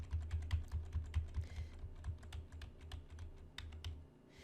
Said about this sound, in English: And then I'm going to just use the arrow keys to move it into place.